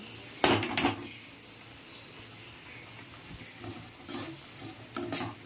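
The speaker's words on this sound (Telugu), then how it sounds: "సన్నగా తరిగిన ఉల్లిపాయ ముక్కలు అయితే వేసుకుంటాం" Finely chopped onions hit a pan alongside green chillies and curry leaves in oil, with sharp clatters of a utensil against the pan and scraping stirs over a low sizzle, close by and without speech.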